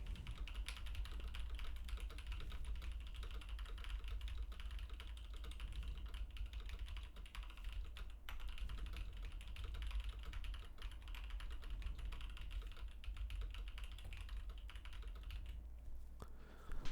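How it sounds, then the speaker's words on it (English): Continuous typing on a mechanical computer keyboard: rapid, irregular clicking keystrokes over a steady low background hum, sustained throughout with no talk. "I'm going to type on my mechanical keyboard."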